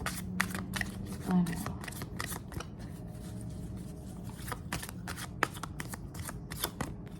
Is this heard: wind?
no